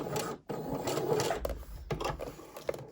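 Sewing machine back-tacking over swimwear elastic, a quick rattling whir of stitching in short runs with brief pauses as direction reverses, close and moderately loud.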